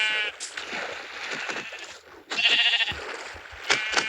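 A sheep bleats several times at close range, with loud, wavering calls broken by short pauses.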